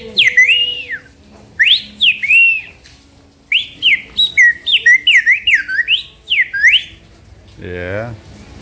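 A handheld whistle from a craft market stall in Coroa Vermelha, Santa Cruz Cabrália, mimics a bird call with a long run of bright, rising and falling chirps. The calls come in quick bursts with short gaps, and a voice speaks briefly at the end.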